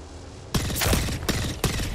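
Charge rifle fire in the game Apex Legends, with a steady hum that breaks into several loud, sharp discharges spaced apart, close and punchy.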